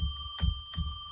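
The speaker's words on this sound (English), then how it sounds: "We've had our bell" A bell rung to declare sacred space strikes twice in quick succession, and each clear ringing tone sustains under a low background hum.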